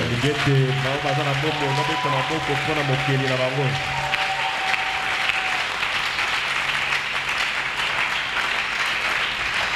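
A church congregation claps and cheers in a sustained wash of loud applause, with a voice singing or calling out over it at first before the clapping carries on alone.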